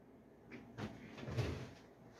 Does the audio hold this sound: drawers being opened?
yes